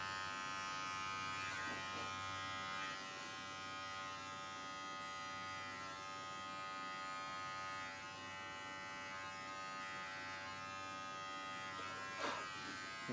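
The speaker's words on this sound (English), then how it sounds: "Pull the skin tight with your thumb there. And the clipper can get really close." Electric hair clippers trim a boy's neck hair during a home haircut, giving a steady close-up buzzing hum that runs without a break and with no talking.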